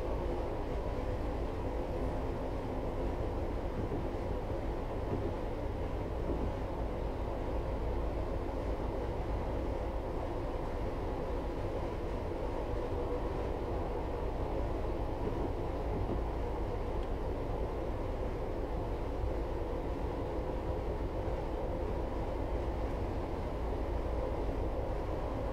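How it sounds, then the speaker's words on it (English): Steady low rumble of a Class 158 diesel unit coasting between Blackpool North and Preston in Train Simulator 2018, a continuous even drone of wheels and running gear with no talk. "Just allowing the train to coast along here for a moment."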